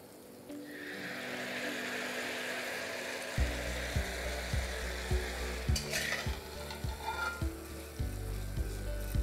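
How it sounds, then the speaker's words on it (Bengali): Shemai vermicelli for jorda shemai cooking in a pan, a steady close sizzle with repeated scraping stir strokes in an irregular rhythm, no talking. "দেখতেই পাচ্ছেন সিমুইগুলো কিন্তু আস্তে আস্তে একদম পারফেক্টলি কুক হয়ে যাচ্ছে।"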